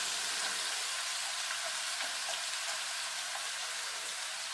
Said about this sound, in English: now I'm going to drop my potato slices in the pot